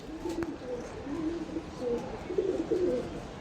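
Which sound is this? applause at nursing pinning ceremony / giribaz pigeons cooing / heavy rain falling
giribaz pigeons cooing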